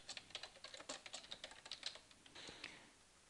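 Fast, steady typing on a computer keyboard, a close, quiet run of crisp key clicks with no voices.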